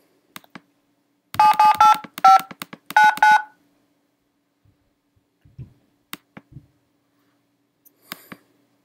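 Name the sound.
telephone keypad tones dialing an extension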